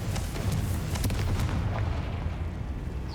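A Confringo fire spell is cast in the Hogwarts Legacy video game, a deep rumbling blast with crackling bursts that booms close and loud, then fades into a low lingering roar.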